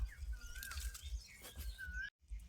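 Several short bird chirps and whistled calls ring out over a low rumbling background, with a brief drop to near silence near the end.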